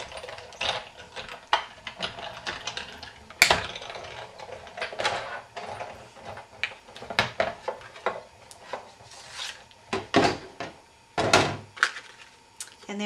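A die-cutting machine cranks a Framelits die sandwiched between cutting pads for a card label, giving a run of quiet, irregular clicks, knocks and thuds that are close but soft.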